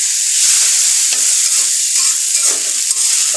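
Spiced noodles sizzle and fry in a pan while being stirred, a loud, close, continuous hiss broken by scraping strokes of the utensil, with no talking.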